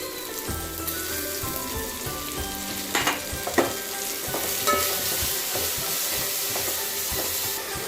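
Ginger-garlic paste ground with pepper, poppy seeds, cinnamon and cloves sizzles in a pan for chicken biryani, a continuous crackling fry broken by scraping stirs and a few sharper clinks, with no talk.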